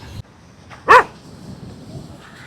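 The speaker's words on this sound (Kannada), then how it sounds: "ನೋಡಿ, ನೆಮ್ಮದಿಯಾಗೇ ಇರಲ್ಲ ಈ ನಾಯಿಗಳು ಮಾತ್ರ." A dog gives a single sharp bark near a beach, loud and close, standing out briefly against quiet background noise with faint rustling before and after.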